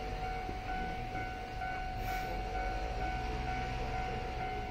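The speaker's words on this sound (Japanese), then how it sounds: "奥からなんか列車がやってきました" A train pulls into JR Uozumi Station during the morning rush, a continuous rumbling roar with a steady tonal hum, fairly loud and unbroken, heard without any talking.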